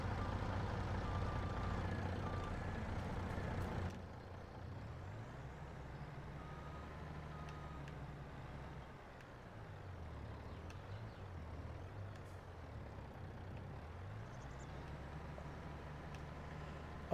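Truck pulling a trailer in Farming Simulator 22, a low engine drone that rises and falls as it strains, loud at first, then steadier and quieter.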